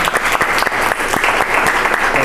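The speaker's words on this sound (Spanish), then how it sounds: "vamos a darle un aplauso a nuestra hermana Ezequiel" Dense, steady applause from a church retreat audience fills the room, loud and continuous throughout with no voices over it.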